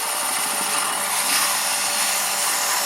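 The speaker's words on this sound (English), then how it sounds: "now I've turned my workpiece into a temporary disc sander" A wood workpiece spins on a lathe while pressed into use as a temporary disc sander, giving a steady, even rushing hiss of abrasion at moderate volume with no speech.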